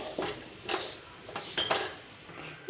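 Flour being stirred in a pan for whole-wheat and jaggery halwa, a few soft scraping, clinking strokes of a spoon against the metal at irregular intervals, close and fairly quiet with no voices.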